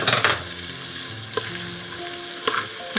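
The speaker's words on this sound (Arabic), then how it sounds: "نخليه يتقلى مليح" Onions for shakshuka fry in a pan with a steady close sizzle, broken by occasional clinks of a utensil against the pan and no voices.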